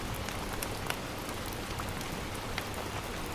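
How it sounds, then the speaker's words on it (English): Steady rain patters softly against window glass in a quiet room, a dense even wash with scattered individual drop taps, continuous and close throughout. "The raindrops patter softly against the glass, creating a soothing rhythm that fills the room."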